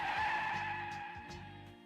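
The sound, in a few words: car brakes screeching in street, audio drama effect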